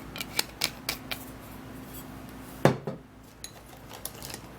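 A utensil stirring green tea and rice water mixed with apple cider vinegar in a container, with a series of sharp clinks and scrapes, one louder knock partway through, then softer taps.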